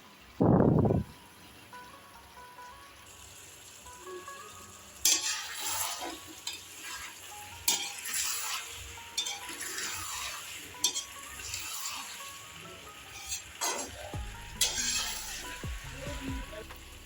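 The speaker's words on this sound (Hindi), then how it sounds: "इसे हम हल्का ब्राउन भून लेंगे" Potatoes, peas and masala are stirred and fried in a pan until lightly browned, with a steady sizzle and repeated scraping clinks of a spoon against the pot, plus one loud thud near the start.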